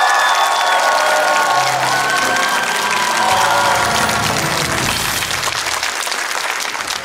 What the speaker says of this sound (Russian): Спасибо, друзья, за аплодисмент.